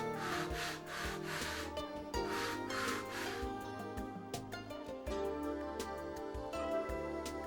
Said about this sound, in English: Sand and fit until it mates perfectly.